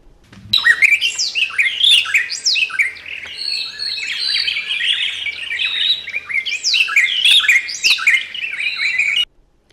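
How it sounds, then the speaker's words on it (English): A dense chorus of chirps, whistles and squawks from several birds in the forest of Marsabit National Park, loud and close, rising abruptly and continuing for nine seconds before cutting off. "It's amazing how different birds and animals call the park home."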